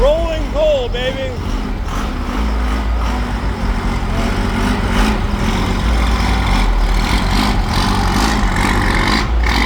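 A diesel truck rolling coal at a car show, a loud deep engine rumble that swells and holds close by with a hiss like air brakes, while voices shout and talk over it.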